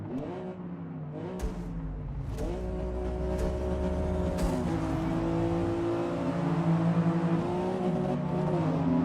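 Race car engine in the racing video game Gran Turismo 7, revving through rising and falling gear sweeps, a few sharp shift clicks early on, then a sustained loud climbing whine toward the end.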